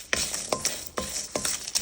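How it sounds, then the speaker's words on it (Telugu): Red chillies and garlic cloves roasting in a hot pan, a steady dry sizzle broken by a few sharp stirring scrapes at a quick, uneven rhythm, close and moderately loud. "10 రెడ్ చిల్లీస్, 2 గార్లిక్ క్లోవ్స్ వేస్తున్నాం. ఇవి కూడా వేయించుకుందాం"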